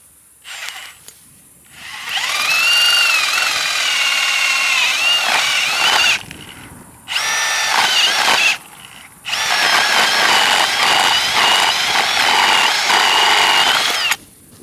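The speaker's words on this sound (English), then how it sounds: "I'm going to go in with the auger to make our first dirt hole." A power auger drills a dirt hole for a coyote trap on the Texas Gulf Coast, its engine whining and revving loudly in long sustained bursts broken by two short pauses, close and alone.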